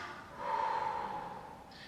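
A single long exhale through the nose and mouth during a stretching exercise for back pain, close and soft, swelling and then fading over about two seconds.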